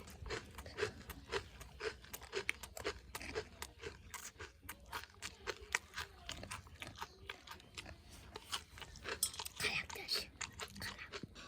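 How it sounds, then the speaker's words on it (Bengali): Close, crunchy chewing of jhalmuri, a spiced puffed rice snack, with rapid repeated crisp bites and munching, faint and near, with soft voices mixed in. "আমি খাবো গফর গফর করে"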